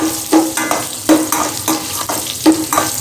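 Dal, asafoetida, dried red chilli and curry leaves frying in hot oil, a loud close sizzle broken by about four rhythmic stirring scrapes against the pan, no voices.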